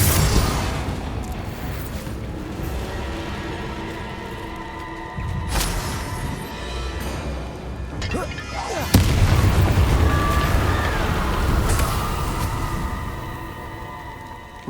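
A Confringo spell explodes in Hogwarts Legacy, landing as a loud booming blast amid sustained rumbling game noise, with a second heavy burst partway through.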